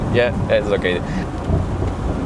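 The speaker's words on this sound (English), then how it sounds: "it's raining quite hard now" Heavy rain pours steadily around a 2025 Mercedes-AMG SL 55 4MATIC+ soft-top convertible, a dense, constant hiss filling the background while someone speaks briefly over it.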